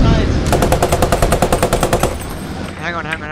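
In the video game Post Scriptum, a machine gun rattles off a fast, loud burst of evenly spaced rounds for about two seconds, then falls away as a voice speaks over the fighting.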